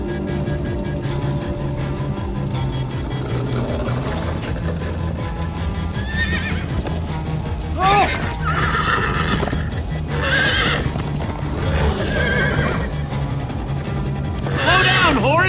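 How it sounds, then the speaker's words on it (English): Horses gallop and neigh in the Minecraft Story Mode video game, rapid hoof clip-clop running throughout with loud repeated whinnies, over game music and urgent shouting voices. "Slow down, horse!"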